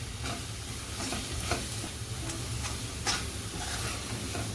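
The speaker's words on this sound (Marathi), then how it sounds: "गोडा मसाला परतून घेते चांगलं" Goda masala sautéed and stirred in a pan for a drumstick and potato curry, giving a steady close sizzle with soft scraping strokes throughout and no talk.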